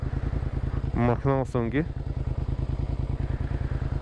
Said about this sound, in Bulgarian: Все пак той е стар мотор и не е каран отдавна също.